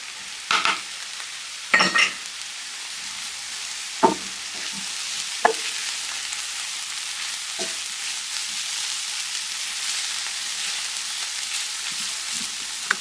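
Asparagus sizzles steadily in a hot pan for egg muffins, with a few sharp stirring scrapes and clatters breaking through the continuous frying hiss; no one speaks.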